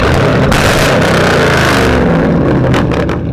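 A Chevrolet Camaro with straight-pipe exhaust revs hard and close, a loud, continuous roaring engine with rising and falling throttle pulses throughout.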